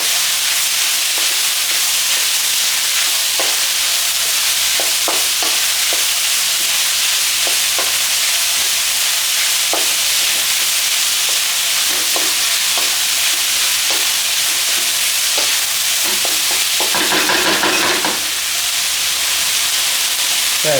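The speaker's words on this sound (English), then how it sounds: "We're gonna first stir fry all the ingredients and with the tofu before we start adding in our sauces." Vegetables and tofu stir-fry in a hot pan for a Cantonese dinner, with loud continuous sizzling and hissing, steady scrapes and taps of stirring, and a brief louder burst of frying near the end.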